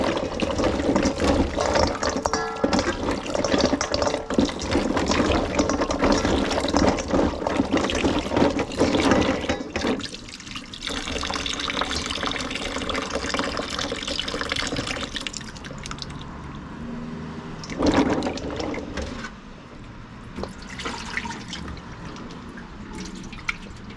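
Breadnut (katahar) seeds washed under running water, a steady close rush of splashing water that eases and shifts partway through, with no talking.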